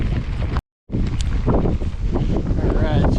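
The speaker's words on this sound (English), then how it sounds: "I'm gonna continue battling this headwind until I take my next right." A strong headwind buffets a touring cyclist on the road, producing a loud, continuous roaring rush of wind noise that cuts out for a split second and then returns just as forcefully.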